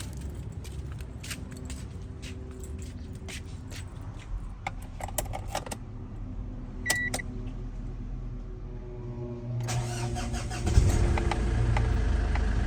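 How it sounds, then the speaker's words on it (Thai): Keys jangle and small clicks come first, then near the end a 2010 Ford Ranger Wildtrak 2.5 pickup engine cranks, catches and settles into a steady rumbling idle. "เดี๋ยวผมไปสตาร์ทให้ฟังเสียงเครื่องยนต์กันนะครับ"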